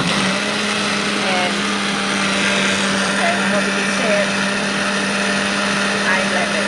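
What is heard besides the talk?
blender blending bread for creamy gazpacho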